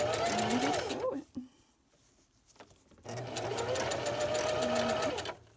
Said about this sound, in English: So, back stitch at the beginning, and then just sew it.